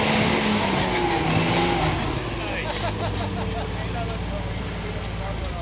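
A rock crawler's engine strains and revs loudly up a steep climb on a dry trail, holding a continuous, throaty drone while people talk over it.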